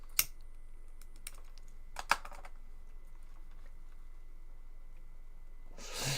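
Scattered keystrokes tap on a computer keyboard in a quiet room, with a few sharper clicks among sparse, irregular typing and a brief rustle at the end.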